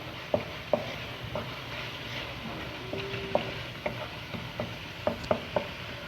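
Masala stir-fried in a pan for saag aloo, with a soft background sizzle and intermittent sharp clicks and scrapes of a spatula against the pan, close and fairly quiet, with no speech.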